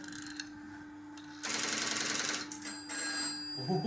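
A phone line hums steadily, then a burst of ringing tone from a 1960s electromechanical telephone exchange sounds, faint and tinny, with short repeated pulses and a brief noise at the end.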